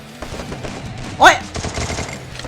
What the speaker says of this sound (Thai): ยิงมั่วๆ ยิงทุ่มๆไปครับ